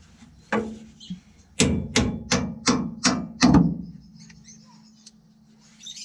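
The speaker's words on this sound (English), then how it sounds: "Universal hammer." A universal hammer strikes metal on a Dodge Ram while rear shocks are changed. Six sharp, evenly spaced blows ring out close and loud, with a low hum underneath and a couple of lighter taps before and after.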